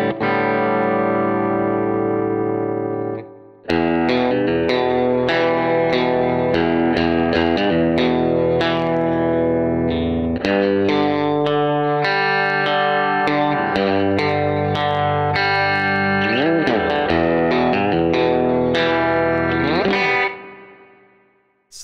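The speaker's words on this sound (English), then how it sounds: "So I go to my presets, open it up, and there's Matt's verb. And then I can play it." Electric guitar played through a PodFarm reverb preset inside Reason, opening with a sustained chord, then a steady run of plucked notes and chords with a lush, slightly distorted, effects-heavy tail. No talking.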